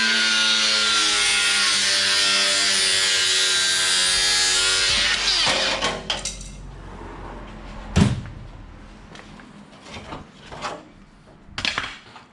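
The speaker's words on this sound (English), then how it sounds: "When in doubt, angle grind it out." An angle grinder cuts through the fender of a Nissan GQ Patrol during a teardown, a loud continuous whine for several seconds before cutting out, followed by sharp metallic clanks and knocks as the panel comes free.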